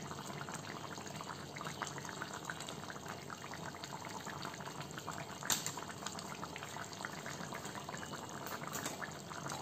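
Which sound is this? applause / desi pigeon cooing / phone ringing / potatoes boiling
potatoes boiling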